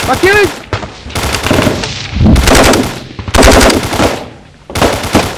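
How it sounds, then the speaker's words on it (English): A firefight in Helmand, where Taliban fighters attack Royal Marines at Zumbelay: loud bursts of machine-gun fire crackle in long volleys separated by short gaps, close and intense, with a brief shout at the start. "by now their positions are under intense fire"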